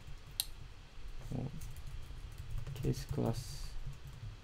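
Computer keyboard keys clatter in short scattered bursts of sharp clicks while someone talks through writing code, the typing close and fairly quiet under his voice.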